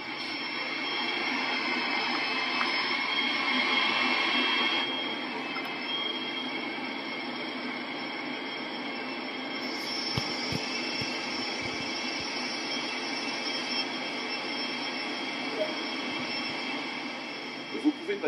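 Exterior train sounds from Train Sim World 2 on the Sand Patch Grade route: a steady, continuous rumble of rolling stock and wheels that holds at a constant level throughout, with a few faint clicks near the middle.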